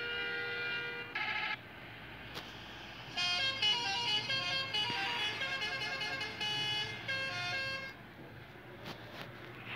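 A bus horn in Bus Simulator Indonesia honks in several blasts, one short early toot then long sustained tones with a bright, layered pitch, played over a low engine hum.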